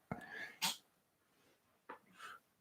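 Two sharp, close sneezes in quick succession near the start, then a softer breathy sneeze-like burst and an exhale later, in a quiet room.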